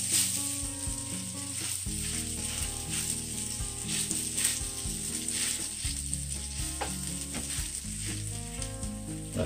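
Butternut squash fritters sizzle and fry steadily in a pan, a continuous close crackle with occasional scraping and utensil sounds, no talking.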